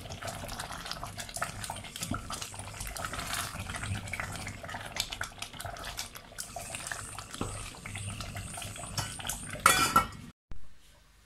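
Chicken with tomato being stirred in a pan, with irregular clinks and scrapes of a utensil against cookware and some watery sloshing, ending in a sharp louder clatter before a brief silence.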